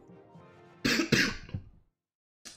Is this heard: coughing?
yes